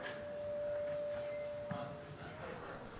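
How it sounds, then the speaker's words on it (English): A steady pure sine-wave tone from an oscilloscope music demo holds for about two seconds and then fades, with someone talking quietly over it. "Sine wave."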